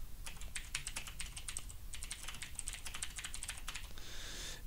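Quick, light keystrokes on a computer keyboard come in brisk irregular bursts with short pauses. The typing sounds close and fairly quiet, and no one speaks.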